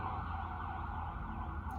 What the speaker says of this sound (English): We take a time out as the ambulance goes by.